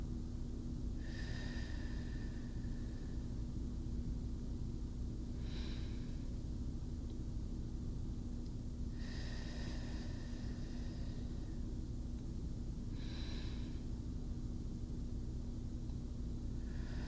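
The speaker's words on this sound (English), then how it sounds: "I would like for you to join me in taking 5 deep breaths" Several deep breaths taken by a group at a wellness conference, long airy inhales and exhales repeating roughly every four seconds over a steady low hum, no talking.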